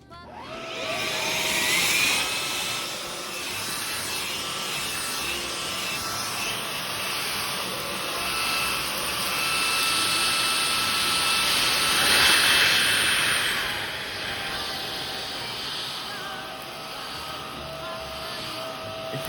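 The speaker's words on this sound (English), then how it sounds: "Today we're using the Joshin cordless vacuum." A Joshin cordless vacuum cleaner runs steadily throughout with a loud, even whooshing roar and a high motor whine, swelling slightly in the middle and near the end.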